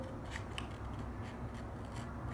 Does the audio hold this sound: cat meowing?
no